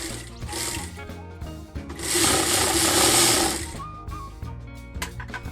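A tailor's sewing machine runs a neckline placket seam, starting with short bursts, then a loud sustained whirring run in the middle, then stopping to quieter handling clicks and rustles, close and without speech.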